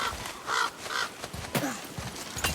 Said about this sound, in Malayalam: കാക്കാസ്.